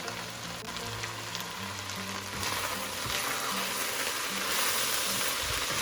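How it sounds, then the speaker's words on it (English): Beef fried rice with ground beef, egg and vegetables frying steadily in a pan as bok choy goes in, a continuous close sizzle with light stirring that grows slightly louder toward the end, no talk. "now I will add the bok choy"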